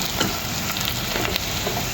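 Sliced onions fry in hot oil in a pan for moringa dal, giving a steady, dense sizzle and crackle throughout, close and fairly loud, with no voices.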